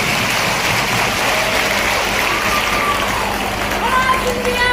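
Applause from a large audience of women at a Raksha Bandhan festival gathering in a hall in Shivpuri, a dense, steady wash of clapping with a voice speaking over it.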